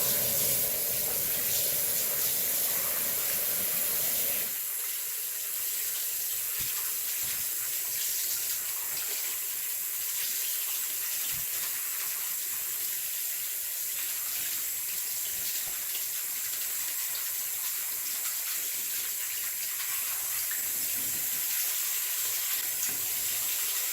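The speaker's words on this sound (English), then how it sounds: "Now I can rinse the soap away." A kitchen tap runs steadily as gold jewelry is rinsed of dish soap beneath it, giving a continuous close hiss and splash that shifts slightly as the stream hits the pieces, with no talking.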